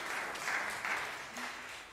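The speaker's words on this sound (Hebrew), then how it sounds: "מחיאות כפיים לכם" An audience applauds at a vocal concert of Russian music, a short burst of clapping from a crowd that swells and then tapers off.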